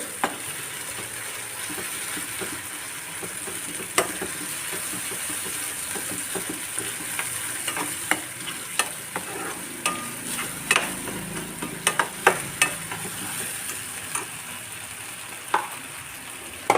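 Steady sizzling of curry paste frying in hot oil for Mangalore fish curry, with intermittent scraping clicks from stirring across the pan, close and moderately loud.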